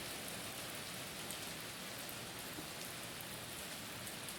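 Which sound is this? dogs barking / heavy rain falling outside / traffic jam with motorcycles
heavy rain falling outside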